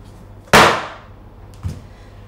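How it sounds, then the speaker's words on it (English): A heavy box of risen bread dough is lifted and banged onto a table: one loud, sharp thud with a short ringing decay, then a softer knock a second later. "we're just going to lift it up and bang it onto the table"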